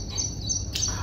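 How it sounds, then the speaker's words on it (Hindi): Birds chirping outdoors, a few short high tweets close together over steady background noise, no talking. "चिड़ियां बोल रही हैं।"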